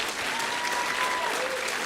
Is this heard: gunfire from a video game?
no